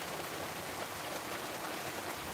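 Heavy rain pours steadily during an incoming storm, a dense, even hiss that holds unbroken at moderate loudness with no voices.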